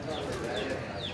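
Pigeons at a loft, with a wild young bird settling among them, make soft, close cooing and fluttery bird calls over a steady, noisy outdoor background.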